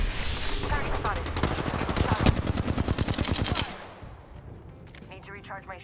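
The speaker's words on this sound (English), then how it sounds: "They're shooting at me." Rapid automatic gunfire in the video game Apex Legends, dense bursts of shots up close for several seconds before stopping, with a voice speaking over and after it.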